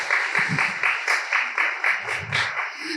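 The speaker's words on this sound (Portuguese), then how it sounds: "Por favor, uma salva de palmas." An audience at an agtech conference applauds as a panel moderator is welcomed onstage, with clustered claps pulsing in a roughly steady rhythm and some voices murmuring underneath.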